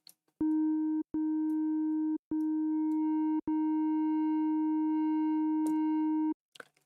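A steady sine test tone passes through a Pultec EQP-1A clone plugin, heard as four loud sustained buzzy blocks with a rich harmonic stack and short clean breaks between them, the last block running several seconds.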